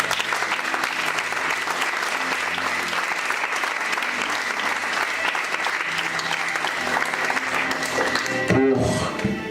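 An audience applauds the team at a gathering, with dense, continuous clapping sustained at an even, loud level throughout, a brief swell of extra noise near the end, and no speech over it.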